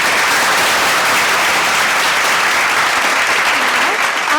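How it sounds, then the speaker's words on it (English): A large school assembly audience applauds loudly and continuously, a dense wash of many hands clapping close by with no break. "Let us all give a huge round of applause to all of them."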